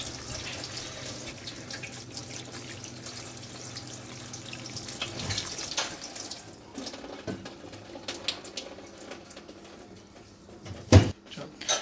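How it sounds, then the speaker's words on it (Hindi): Cold tap water splashes over boiled macaroni in a sink, a steady running stream with soft gurgles that drops away midway, then scattered drips and a loud clatter near the end. "अच्छे से इस ठंडे पानी के साथ इसको धो लें।"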